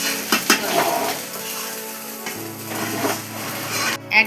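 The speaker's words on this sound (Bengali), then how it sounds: "সাথে এইভাবে মিশিয়ে রাইসটা একটু ভেজে নিলেই" Vegetable fried rice is stir-fried in a small pan, with a metal spatula scraping and clattering against the pan. Clinks come in irregular bursts over a soft sizzle, close and fairly loud, with no voices.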